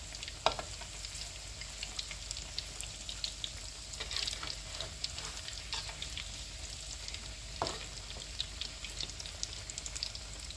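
Potato fritters (perkedel kentang) sizzle steadily in hot oil, a dense continuous crackle with sharper pops scattered through it, close and fairly loud, with no voices over it.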